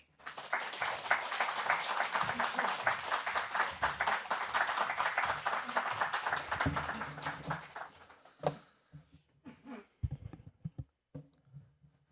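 A church congregation claps warmly at Sunday worship to welcome a missionary to the front. The dense, steady applause lasts about eight seconds, then dies away into a few scattered claps, shuffling and brief low voices.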